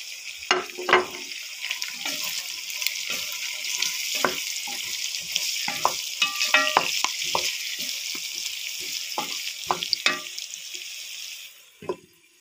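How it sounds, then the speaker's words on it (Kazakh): Carrots fry in a pan with a steady sizzle while a utensil stirs and scrapes them in irregular clicks and knocks, close and fairly loud, stopping just before the end. "Сәбізіміз қуырылып болды."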